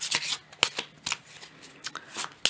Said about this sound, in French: je vais prendre une deuxième carte de l'oracle Fontaine par rapport à cette carte